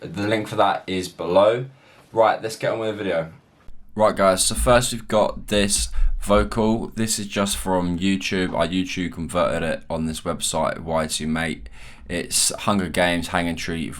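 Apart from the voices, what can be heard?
No everyday noises stand out.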